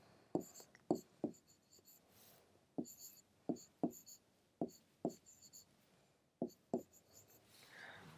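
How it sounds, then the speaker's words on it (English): A pen writes on paper in a quiet room, laying down short scratchy strokes in bursts of two or three with brief pauses between, close and fairly soft, with no talking. "So, you write down all these options like this"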